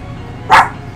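A single sharp dog bark rings out close by in a home, one brief loud yelp against quiet background.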